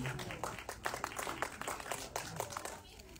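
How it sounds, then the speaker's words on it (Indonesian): Light applause rises from the audience for actor Ari Irham at a film premiere event, sparse claps in a quick irregular patter that are faint and distant, fading out near the end. "berikan tepuk tangan yang meriah untuk Ari Irham"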